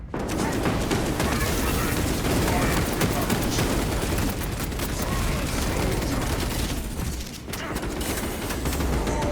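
Heavy bolter-style blasting in the Warhammer shooter Space Marine 2 during a player-versus-player match, a constant roaring wall of gunfire and explosions with someone talking over it.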